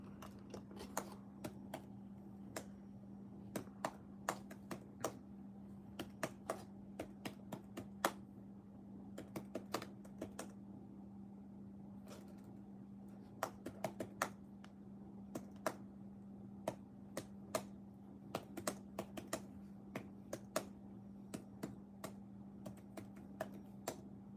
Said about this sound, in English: Type away.